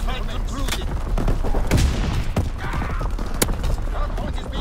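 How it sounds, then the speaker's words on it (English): Artillery and gunfire in a war video game, a busy barrage of sharp blasts and cracks with rumbling booms, loud and close, mixed with voices talking. "Firing for full effect."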